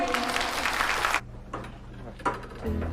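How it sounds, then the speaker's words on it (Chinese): Audience applause welcoming a speaker onstage at a corporate event, a dense burst of clapping that cuts off abruptly after about a second, followed by quieter room sounds with faint intermittent noises. "大家掌声欢迎"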